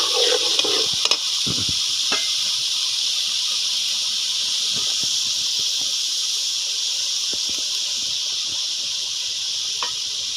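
Chickpeas, soaked overnight with baking soda and then boiled, hit hot ghee with a brief clatter, then settle into a continuous, even sizzling hiss. Occasional utensil clicks and stirring scrapes punctuate the sizzle.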